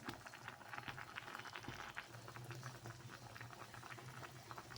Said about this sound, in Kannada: ನಾವು ಸ್ವಲ್ಪ ಹೊತ್ತು ಕುದಿಸ್ಕೊಳ್ಳೋಣ